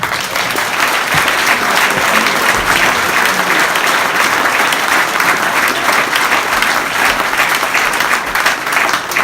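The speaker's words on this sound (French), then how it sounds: "Je voudrais que vous l'applaudissiez chaleureusement." Warm, sustained applause from a crowd at the patronal festival in Péone, a steady dense clatter of many hands filling the whole stretch at close range.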